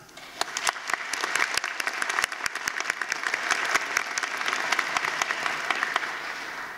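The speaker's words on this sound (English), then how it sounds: "Let's give them applause." Graduation crowd at a Bow Valley College winter ceremony breaks into applause, beginning with scattered distinct claps that swell into a full, sustained ovation across the hall.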